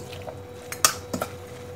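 Raw anchovy kinilaw with plenty of pepper is stirred by hand, giving soft wet squishes and a couple of brief sloshing clicks close up.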